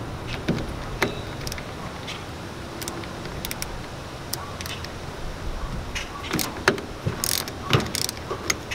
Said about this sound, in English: It's a 13 millimeter socket.